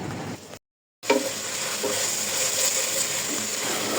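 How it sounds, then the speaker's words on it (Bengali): Pieces of rohu fish frying in oil in a pan, a steady hissing sizzle that cuts out briefly near the start and then resumes close and even. "এখন ভাজি হওয়ার অপেক্ষা।"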